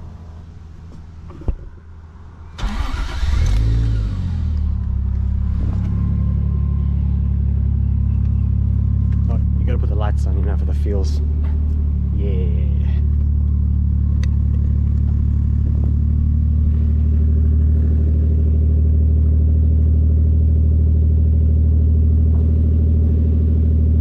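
A Toyota JZX100 street car with an aftermarket keyless entry and a 460 Walbro fuel pump cranks and fires up, then settles into a loud, steady deep idle with a few brief revs, while someone speaks briefly over it.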